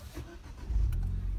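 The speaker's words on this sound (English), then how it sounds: "What I'm going to do is start the car" A Ford Fiesta ST engine starts up: a brief starter whir, then the engine catches with a deep, close rumble that settles into a steady idle, with no talking.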